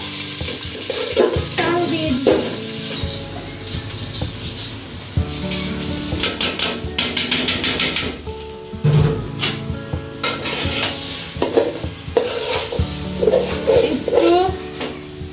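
Onion frying with cooked chicken in oil for a chicken biryani, stirred in a pan: steady sizzling with scraping and clinks of a utensil against the pot, under tonal background music throughout.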